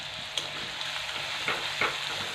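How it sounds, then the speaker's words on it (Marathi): A paste of garlic, coconut and coriander stems sizzles in hot oil for bitter gourd stir-fry, a steady close crackle with a few soft stirring scrapes. "त्यामध्ये आपण जो लसूण, खोबरं आणि कोथिंबीर देठाचं वाटण केलं आहे ना ते घालून घ्यायचं"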